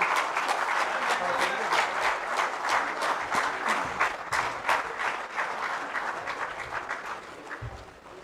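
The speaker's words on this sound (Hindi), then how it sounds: "अनुरोध है कि तालियों के साथ उनका भी स्वागत किया जाए।" An audience applauds to welcome the Chief Minister's secretary at a Jharkhand administrative service association event in Ranchi, with steady, dense clapping that runs the whole stretch and slowly tapers at the end.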